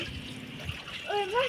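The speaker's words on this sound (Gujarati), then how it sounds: "હજી તો પાણી ભરાય છે" Water runs and trickles into a child's swimming-pool tub, a soft continuous splashing stream under faint background noise, with a brief higher tonal squeak near the end.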